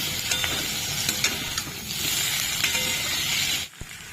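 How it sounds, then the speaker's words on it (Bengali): A steady sizzle of capsicum frying in a pan, punctuated by sharp clicks and scrapes of stirring, then a sudden quieting near the end. "দিয়ে ভালো করে ভেজে নেব।"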